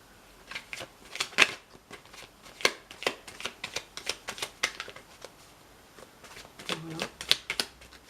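Tarot cards are shuffled by hand for a card reading, a quick run of crisp riffling clicks and slaps that gives way to a voice speaking near the end.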